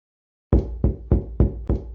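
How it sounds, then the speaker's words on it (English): Hands pound on a door in five heavy, evenly spaced thuds after a moment of silence, loud and close, each knock booming and quickly decaying. "I carried on with my thudding until my hands hurt."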